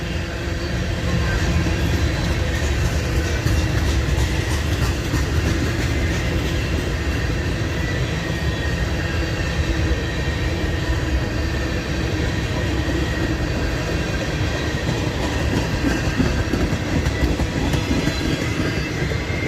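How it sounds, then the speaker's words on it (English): A heavy northbound coal train rolls past close by on a mainline, slowing, a continuous loud rumble with rhythmic clacking of wheels over rail joints, no voices. "he's got a heavy train because it's slowing down"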